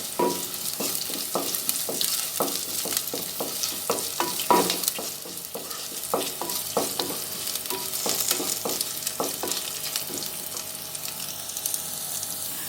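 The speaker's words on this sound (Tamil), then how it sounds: "இந்த ரெசிபிக்கு ஆனியன் வந்து ரொம்ப ஃப்ரை ஆக வேணாம் ஃப்ரெண்ட்ஸ், லைட்டாக வதங்கினாலே போதும்." Onion and curry leaves frying lightly in oil in a pan, a continuous moderate sizzle punctuated by repeated crisp clicks and scrapes of stirring, no voices.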